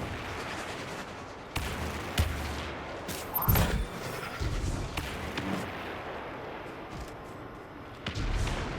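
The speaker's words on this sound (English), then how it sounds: "I'm going to just shoot one more rocket." A rocket launcher fires in Destiny 2 during a solo Grandmaster Nightfall on Inverted Spire, a punchy thump with a hissing whoosh amid scattered distant gunfire and booms.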